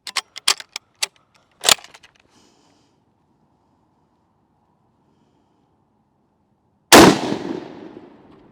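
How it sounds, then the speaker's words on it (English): WWII rifle fired outdoors: a cluster of sharp rapid cracks and one more report near the start, several seconds of near silence, then a single loud, close shot with a lingering rumbling tail. "we're ready to take our first shots with this rifle and see how we can do."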